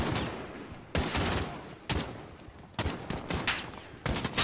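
Gunfire in the video game Modern Warfare, with a sniper rifle in play: heavy booming shots land about once a second, each a loud broadband blast with a rumbling tail over constant battle noise, with no voices.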